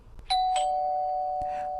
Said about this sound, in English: you're the one that's ringing the doorbell